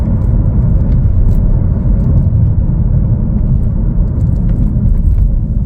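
A 2025 Chevrolet Trailblazer AWD LT on a test drive, heard from inside as a loud, steady low road and engine rumble with no breaks.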